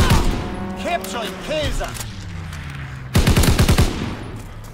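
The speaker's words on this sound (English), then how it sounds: "Enemy strafing run inbound!" Enemy aircraft strafing run in Call of Duty: WW2 on the Ardennes Forest map, loud rapid bursts of gunfire hammering in rhythmic volleys, with game announcer voices speaking over the action.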